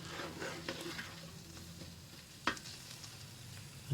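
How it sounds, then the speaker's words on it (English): Onions fry in a JML multi cooker with a soft, continuous sizzle, a few light stirring clicks and one sharper knock partway through. "just cook these onions until they're golden brown"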